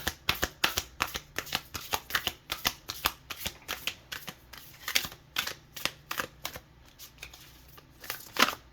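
An oracle card deck is shuffled up close, its quick riffling bursts repeating in an irregular rhythm that fills the whole stretch, with no talking.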